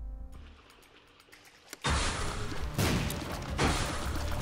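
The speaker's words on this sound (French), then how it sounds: "Si on meurt pas avec les flaming tears qui créent des explosions à l'impact de temps en temps de manière aléatoire" In The Binding of Isaac, flaming-tear projectiles burst into explosions on impact, producing loud, sustained crackling blasts that swell after a quieter opening and pulse in repeated bursts.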